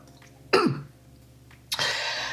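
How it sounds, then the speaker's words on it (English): One harsh, close cough or throat-clearing burst, followed after a pause by a longer rushing breathy noise. "I swear this cough is going to go away"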